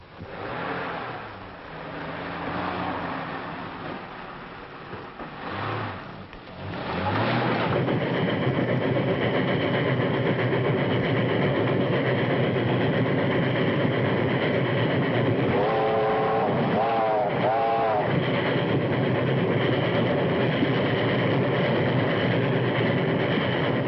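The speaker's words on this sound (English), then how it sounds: "That's the train." Steady, loud rumble of a train rolling past nearby in a 1937 film, a constant rail roar with a brief squealing tone partway through.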